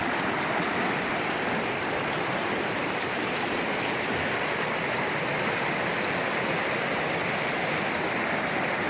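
Milky glacier-fed river in the Mount Evans Wilderness rushing past, a loud, steady broadband roar of flowing water with no break, heard close and alone.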